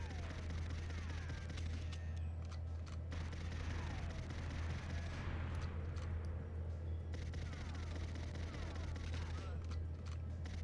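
Gunfire in the video game GoldenEye 007 played on a Steam Deck: repeated bursts of shots ring out over a constant low drone, fairly faint and continuing throughout.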